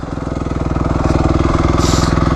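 Dirt bike engine running close by with a rapid, choppy pulsing beat that rises in pitch as the throttle opens into a louder rev, without any voices.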